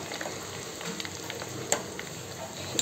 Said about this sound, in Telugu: ఎండుమిర్చి వేగింది, పోపులు రెడీ అండి